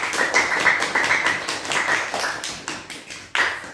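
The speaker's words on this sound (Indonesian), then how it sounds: "Tepuk tangan untuk kelompoknya Mas Nova." Students in a classroom clap for a presenting group during a microteaching session, a steady patter of hand claps over nearly four seconds, close and moderately loud, with a few sharper individual claps near the end.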